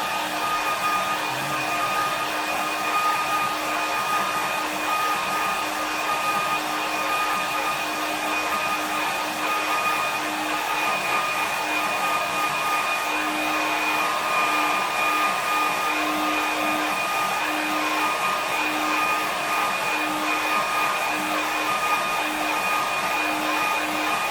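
A hair dryer blows steadily on a watercolour painting, a loud, constant whirring roar with a high whine that holds without a break from start to finish, with no talk.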